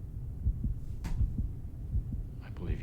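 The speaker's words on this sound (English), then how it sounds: "Steady heartbeat means they're not lying." A steady heartbeat sound effect from the TV show Daredevil thumps low and regular, about two beats per second, over a faint hum, with a brief noise burst and voices in the background.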